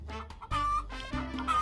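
A tier 6 chicken in a Roblox chicken farm game clucks loudly in a few quick, squawky bursts, close and alone, with no talking.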